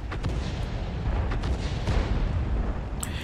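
Heavy booming fire from a tank gun in World of Tanks, with a continuous rumbling battle din and a few sharp reports spread across the stretch, no talk.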